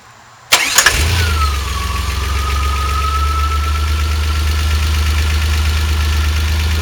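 A car engine cranks and catches with a sharp start, then settles into a steady, loud, close idle for several seconds, with a faint whine running through the drone and no speech.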